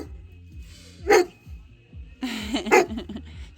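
A dog in a home yard with plants barks twice, once sharply and then again a little over a second later, close by over low background noise.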